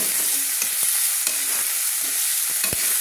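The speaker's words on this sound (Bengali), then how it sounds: "দিয়ে আমি তেলের মধ্যে সুন্দর করে কষে নিলাম" Kashmiri chilli powder stirred into hot oil in a pan for a Bengali bata fish curry, giving a steady close sizzle with scattered spoon scrapes and a few sharp knocks against the pan.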